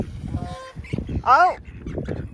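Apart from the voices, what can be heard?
goose honking loudly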